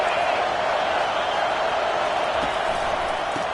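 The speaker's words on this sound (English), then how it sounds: "It is getting loud as this crowd tries to help its defense." A loud stadium crowd at a college football game against Mizzou roars steadily to disrupt the offense, a dense sustained wall of noise throughout.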